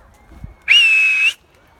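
A single sustained whistle from a person calling to pigeons, a steady high tone lasting about half a second after a faint thump, loud and alone with no talk over it.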